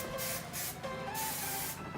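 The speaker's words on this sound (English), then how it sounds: "Now we're gonna hairspray in place" Hairspray from an aerosol can misting over a ballerina hair bun, a continuous close, loud hiss in several bursts, with brief dips between pulls of the nozzle.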